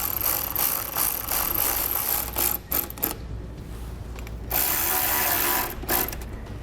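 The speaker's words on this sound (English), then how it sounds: "we'll snug down our smaller M6 bolts" A ratchet snugs down small M6 bolts on Westin PRO TRAXX oval nerf bar step covers, giving fast, close clicking runs with brief pauses between strokes.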